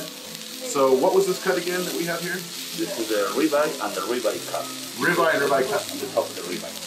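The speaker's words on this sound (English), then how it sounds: "you can hear the delicious sizzling in the background" Ribeye and A5 wagyu sizzle steadily on a hot Korean BBQ grill in a New York City restaurant beneath close conversation, a constant crackling hiss filling the background while several people talk.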